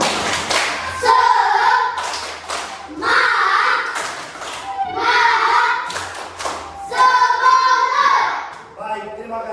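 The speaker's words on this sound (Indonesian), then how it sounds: "Tepuk tangan dulu" A primary-school classroom of children claps together in several bursts of brisk, loud applause, with pauses between and some voices mixed in.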